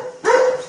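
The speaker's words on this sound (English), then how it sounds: "Stop barking. Stop. Stop barking." A dog named Jake gives a single loud, close bark that breaks out of near silence and rings on briefly.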